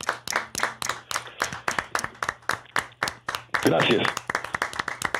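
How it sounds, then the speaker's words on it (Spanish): Church congregation clapping along together in rhythmic bursts during a sermon, with a preacher's voice speaking over the steady beat of hands and a louder swell of applause near the end. "Todos aplaudiendo en esta hora."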